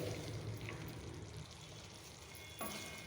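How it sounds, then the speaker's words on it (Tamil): Kara sev being stirred into thick thokku gravy in a hot pan, a steady soft sizzle with faint scraping as the mix is turned, close and without talk. "கார சேவ் 100 கிராம் அளவு இதை சேர்த்து 1 நிமிஷம் லேசாக கலந்து விட்டு இறக்கிடலாம்"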